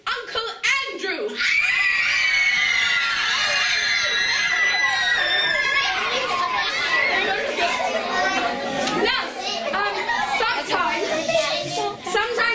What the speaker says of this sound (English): when you hear his name, you scream in terror